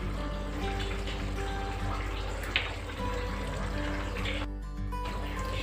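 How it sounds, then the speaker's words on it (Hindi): Hot water is poured into a jackfruit curry cooking in the kitchen, a steady rushing pour that runs continuously for several seconds over a constant background hum. "मैं पानी को गर्म करके डाली हूँ।"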